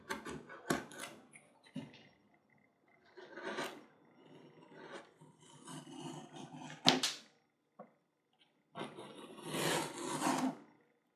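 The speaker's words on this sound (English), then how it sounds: "This is from an older, kind of drier piece of leather, so it's a little tough to cut." Knife cutting through an old, dry, tough piece of leather for a gun stock cover, heard as quiet scraping and rasping strokes in irregular bursts separated by pauses, with a few sharp clicks.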